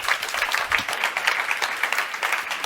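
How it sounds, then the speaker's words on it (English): Audience applause for a panel of speakers at an HIV-focused discussion event, a steady dense patter of many hands clapping at moderate level throughout. "just a big round of applause for all of our panelists"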